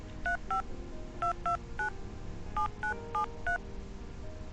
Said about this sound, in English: I dial the number carefully, each press deliberate.